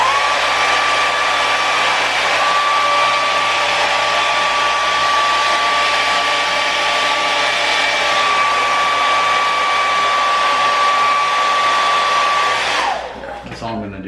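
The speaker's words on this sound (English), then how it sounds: "use this blow dryer and a comb just to kind of give it some form and shape" A handheld blow dryer roars loudly and steadily at close range while a comb styles a pompadour undercut, its whine holding constant before it cuts off at the end.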